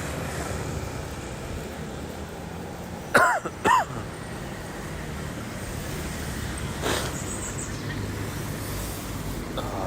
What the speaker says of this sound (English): Do excuse me for all the coughing and spluttering everything.